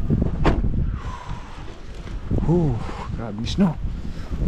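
Gusty wind in a heavy Canadian snowstorm roars and buffets the microphone while several people talk and exclaim over it.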